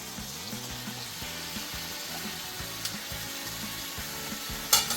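Pork ribs fry in garlic oil in a wok with a constant soft sizzle over a low repeating background pattern, and a brief clatter near the end.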